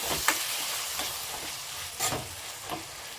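Chopped tomatoes sizzling and frying in a pan, a steady close crackle with a few sharp stirring scrapes and clinks, no voices.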